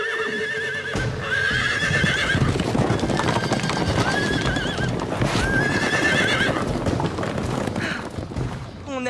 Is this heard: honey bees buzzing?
no